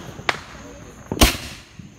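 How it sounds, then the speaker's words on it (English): Fireworks going off during a Fourth of July celebration: two sharp, loud bangs about a second apart, the second heavier and booming, over a low background hum. "Okay guys, we are doing the fireworks right now."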